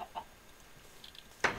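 Chickens on a Minecraft farm give short clucks, a couple of faint ones early and then a sharper, louder pair near the end, with little else around them.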